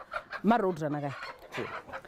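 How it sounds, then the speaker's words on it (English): Free-range chickens cluck and call close by in a few short bursts, one drawn-out squawking call standing out, with some voices faintly in the background. "I see a whole lot of free-range chicken."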